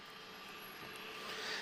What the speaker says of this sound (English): the loudest thing that I can hear are two CF6 engines on Star Air.